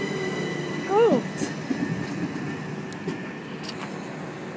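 A Class 377 electric train stands at Battersea Park station in London while a brief wheel squeal rises over the steady rumble of rail noise, with a voice speaking briefly nearby.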